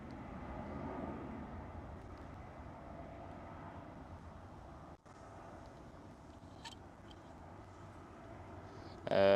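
A Delta Airlines airliner on the runway at Amsterdam Schiphol airport gives a steady, broad jet roar that holds throughout, briefly dipping midway before swelling louder at the very end.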